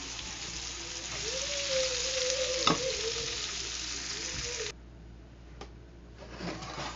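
Onions hitting a hot pan and frying, a steady bright sizzle with a brief clatter, then the sizzle drops sharply to a softer hiss before a small swell; close and fairly loud.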